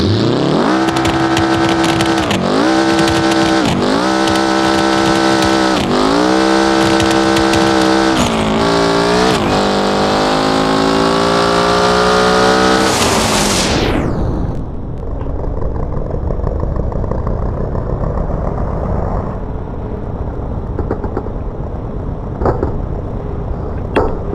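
Car engines in the BeamNG.drive driving game, revving loudly through repeated rising gear shifts for about fourteen seconds, then cutting into a dull, muffled rumble as a car drives into water.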